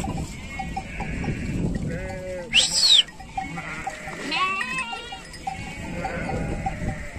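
Sheep bleat several times amid a flock, with a bell clanking and rustling movement nearby.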